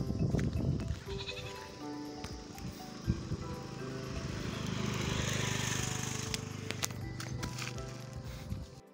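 Goats bleating repeatedly while being herded outdoors by a herder, calls rising over footsteps and rustling movement, fairly close and steady throughout with no talk.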